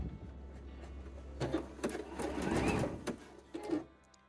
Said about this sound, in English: then we'll continue sewing